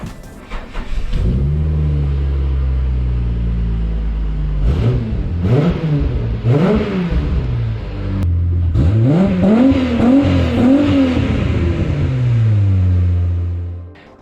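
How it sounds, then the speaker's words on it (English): A lowered Holden VY car with a modified exhaust is revved repeatedly, the engine climbing and falling in several loud, close bursts over a steady idle rumble. "The exhaust ended up sounding pretty good, I reckon. Not too drony."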